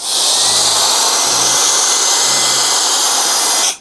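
A portable power blower fan for car detailing roars in a steady, loud high-pitched whoosh for several seconds, close up, then cuts off abruptly at the end.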